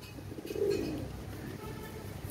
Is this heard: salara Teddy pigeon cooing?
yes